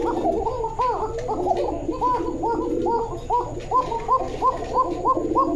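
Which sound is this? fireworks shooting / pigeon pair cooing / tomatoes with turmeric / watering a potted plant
pigeon pair cooing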